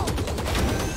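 Rapid automatic gunfire from the tactical shooter Valorant, a dense, loud burst of evenly spaced shots filling the whole second without a break.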